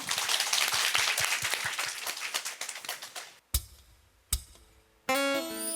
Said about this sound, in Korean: 박수로 청할게요